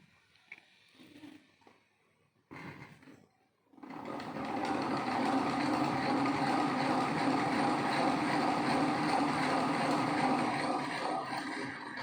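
A small honey extractor machine spins up after a few quiet seconds of handling noise, settling into a loud, steady whirring drone with a rapid rattling knock throughout.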